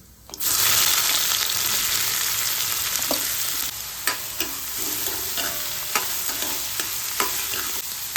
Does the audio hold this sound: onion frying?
yes